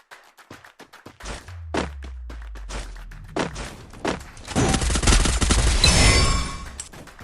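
Gunfire in the video game Free Fire: a few scattered shots and thuds early, then a loud, dense burst of rapid automatic fire filling the second half, close and sustained.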